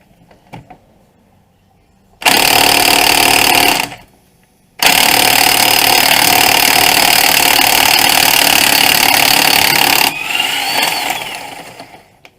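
A loud power tool spins off a suspension nut near the lower ball joint on a 2003 Chevrolet Cavalier, a short burst followed by a long sustained run that then trails off, close and harsh.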